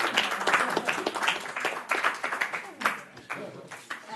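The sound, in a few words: applause for a presenting team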